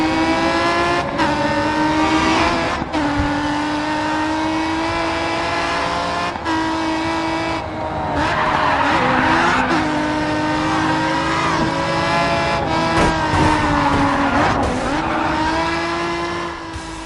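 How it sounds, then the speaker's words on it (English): Racing car engines roar and tires squeal in the Grid 2 video game, a continuous loud run of revving and shifting engine tones with repeated skids, no voices. "the immersive soundscape of roaring engines and squealing tires"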